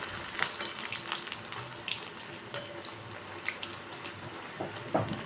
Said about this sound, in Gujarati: હવે એને હું મીડિયમ તાપ ઉપર એક બાજુ ગોલ્ડન બ્રાઉન થવા દઈશ।